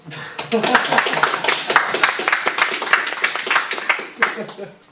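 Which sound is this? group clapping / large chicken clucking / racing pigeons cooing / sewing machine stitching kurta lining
group clapping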